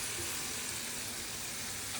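Water hitting a hot pan during cooking of paneer with moong dal and moringa drumsticks, giving a steady, dense, loud sizzle that holds evenly throughout without any talk.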